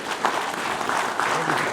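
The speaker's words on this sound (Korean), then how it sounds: "박수 한번 부탁드리겠습니다" A crowd at a political party lecture applauds in a steady wash of clapping, with a voice speaking over it.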